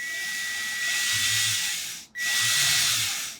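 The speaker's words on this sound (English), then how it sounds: "I can see a little bit of metal coming off onto the sandpaper" Metal shifter knob being sanded by hand with sandpaper, a steady harsh scratching hiss in two long strokes with a short break between them, close up.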